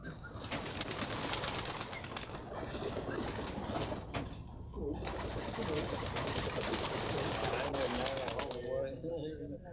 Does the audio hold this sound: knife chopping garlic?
no